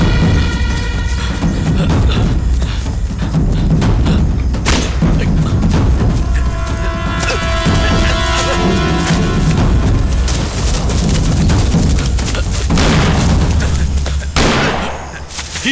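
Sustained gunfire in a movie shootout, a dense, loud barrage of shots and booms running almost without pause, with scattered sharper cracks standing out over the din.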